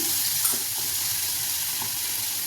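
Bitter gourd with onion and tomato sautéing in a pan for a Tirunelveli-style bitter gourd egg stir-fry, a steady soft sizzle with a few faint clinks and no talking.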